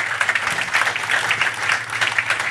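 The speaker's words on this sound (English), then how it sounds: "Give them a round of applause." Audience applause at a talk on a Birmingham fast-food business, a short burst of many hands clapping at moderate volume with uneven pulses, no voices over it.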